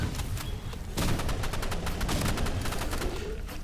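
Rapid bursts of gunfire from flare guns in a multiplayer shooter video game, a dense run of sharp close shots that starts after a second and keeps going to the end.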